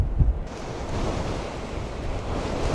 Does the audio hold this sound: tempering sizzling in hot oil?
no